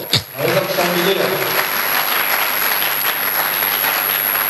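A church congregation applauds loudly during a French-language sermon, a dense, sustained wash of clapping that carries on steadily from start to finish with a few voices mixed in.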